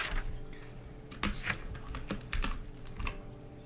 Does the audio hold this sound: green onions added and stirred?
no